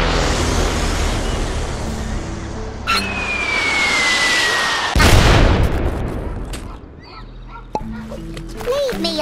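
Explosions from bombs in the artillery game Worms W.M.D, with a loud blast and rushing roar midway, a falling whistle beforehand, and game chatter and effects around it.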